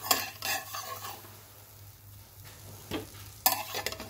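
A dish with egg inside fries in a pan, giving a quiet sizzle under intermittent stirring scrapes and clinks of a utensil against the pan, with short louder knocks near the end.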